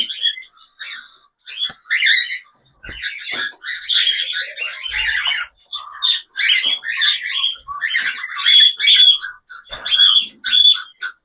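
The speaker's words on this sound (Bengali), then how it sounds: "দেখুন পাখি সব আস্তে আস্তে খাওয়ার জন্য সব নেমে চলে আসবে" Pet birds call constantly as they come down to a feed of rice, a busy overlapping mix of squawks, chirps and tweets in short bursts, close and fairly loud with no talking.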